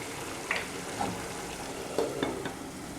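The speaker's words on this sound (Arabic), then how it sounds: "الدجاج اللي قاعد يطيب قريب يحضر هاكا" Chicken pieces cooking in a pan for quick macaroni zaara, a steady low sizzle with a few soft clinks and stirring scrapes, fairly faint and close, with no voices.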